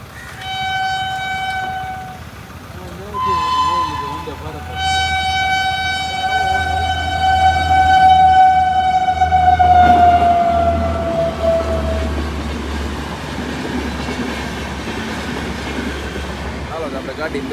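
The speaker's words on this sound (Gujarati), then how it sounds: "જો ટ્રેન આવી ગઈ વંદે ભારત" A Vande Bharat train passes a railway crossing near a station in Rajasthan, sounding loud, tonal horn blasts (two short ones, then a long sustained one) before its rumbling wheels carry on steadily and close.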